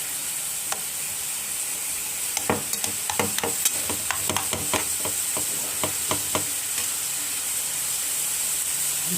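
Thinly sliced Alexandrian-style liver frying in a pan with a steady sizzle, while a spoon stirs it in a burst of clattering, scraping strokes near the middle of the clip.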